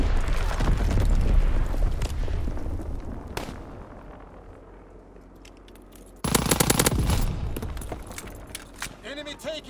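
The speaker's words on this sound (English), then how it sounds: "Sending mortar rounds." A dense mortar barrage in Call of Duty WW2 multiplayer, with heavy overlapping explosions and rumbling blasts that fade, then a fresh loud burst of impacts, all close and continuous, with game voices mixed in.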